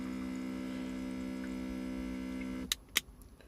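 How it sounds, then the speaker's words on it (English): A cheap electric water pump runs with a steady, low mechanical hum for most of the moment, then cuts off, leaving a few brief clicks and knocks afterward. "It's not dead silent, but it's not as bad as a lot of other water pumps"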